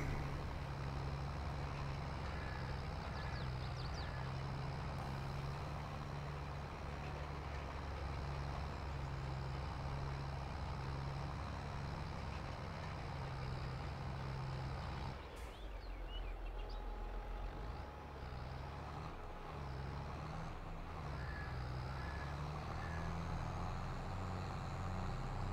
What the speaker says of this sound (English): Poor little tractor struggles so much at the rolling.